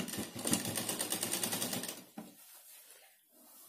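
A home sewing machine stitches lace onto the waist of a lehenga, with a rapid, even clatter of needle strokes running close and steady for about two seconds before it stops, followed by a few faint handling clicks.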